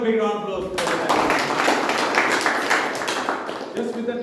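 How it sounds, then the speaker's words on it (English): At a Toastmasters club meeting, a voice speaks briefly before a dense round of applause swells up and holds for about three seconds, then fades as talking returns. "Just have a big round of applause for that."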